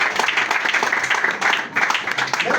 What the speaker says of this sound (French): Alléluia, acclamons le Seigneur pour nous.